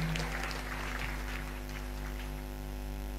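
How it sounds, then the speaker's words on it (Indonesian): An audience at a talk show discussion breaks into sustained applause, a dense wash of clapping over a steady electrical hum, fading slightly toward the end. "Tepuk tangan dulu dong."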